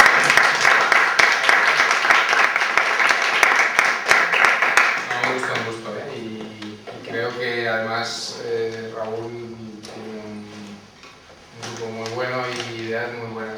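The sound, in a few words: audience applause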